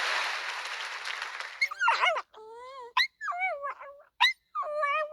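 A pet dog howls in a sing-song way, giving a series of short, wavering, pitch-sliding howls with brief pauses between them, after a noisy opening burst.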